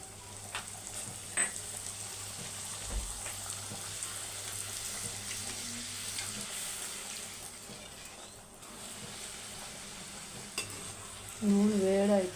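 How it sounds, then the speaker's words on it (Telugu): Puri frying in hot oil in a home kitchen: a soft, steady sizzle with occasional stirring scrapes and brief clinks, quiet and close throughout, with a slightly louder clatter near the end. "ఇప్పుడు పూరి వేసుకుంటాం"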